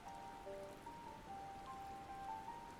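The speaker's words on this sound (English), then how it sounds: "And now it's raining." Steady rain falls in Final Fantasy XIV, a soft continuous patter on surfaces with thin sustained tones from the game's music layered over it, even and unbroken throughout.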